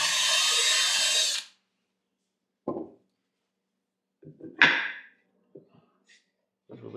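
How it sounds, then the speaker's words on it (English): A power drill with a bit boring a hole through a wooden block for a leatherworker's stitching pony, one loud sustained whirring burst at the start, then scattered short knocks and brief drill spurts. "we're going to drill a hole through this block"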